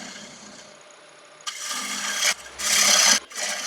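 An uneven yew bowl is dressed on a woodturning lathe: a quiet hum, then loud rasping scrapes of the cut in three close bursts with short gaps between them.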